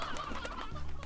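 Chickens cluck in the video game Slime Rancher, in a ranch pen where meat-eating slimes feed on them. The soft, overlapping clucks are faint and steady over low game ambience.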